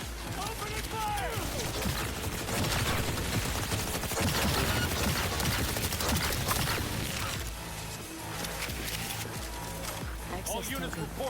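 Dense, continuous automatic gunfire from a firefight in Cyberpunk 2077, loud and chaotic with rapid overlapping bursts throughout, briefly easing near the end, with game voices calling out under the shooting.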